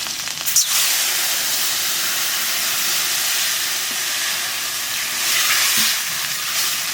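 Water added to a hot pot while cooking koi fish with water lilies sets off a loud, continuous sizzle and hiss that carries unbroken from start to finish, swelling slightly near the end.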